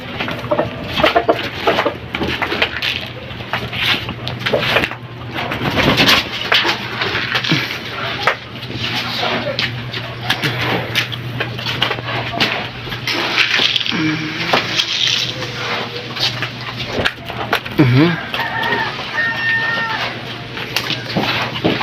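Gamefowl chickens in a backyard cluck and give occasional crowing calls, mixed in with people talking and other yard noise.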